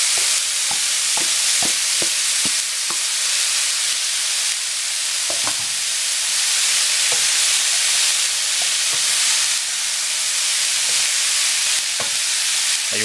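Rice being stirred and fried in a hot pan for island curry fried rice, with a steady sizzle throughout and repeated sharp scraping clicks of the utensil against the pan, close and loud, no talking.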